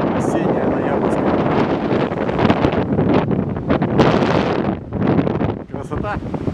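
Strong November wind buffets the microphone on the Black Sea shore at Vityazevo near Anapa, a loud, continuous roar with gusty surges, and someone speaks over it.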